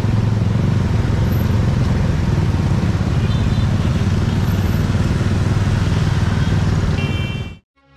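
A dense, steady roar of motorcycle engines fills the air, continuous and loud, then cuts off abruptly near the end.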